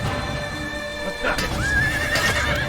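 A horse neighs and whinnies in the video game Assassin's Creed, mixed with hoof clip-clops and combat noise while someone talks over the action.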